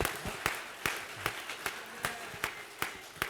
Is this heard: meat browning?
no